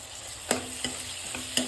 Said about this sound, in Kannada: ಚಿಕ್ಕದಾಗಿ ನಾನು ಟೊಮೆಟೊನ ಹೆಚ್ಚಿಟ್ಕೊಂಡಿದ್ದೀನಿ ಅದನ್ನು ಹಾಕೋತಾ ಇದ್ದೀನಿ.